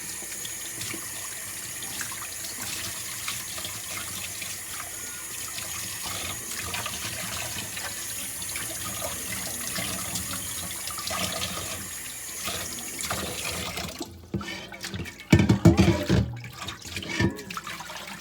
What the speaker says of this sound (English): Now we're gonna rinse it out.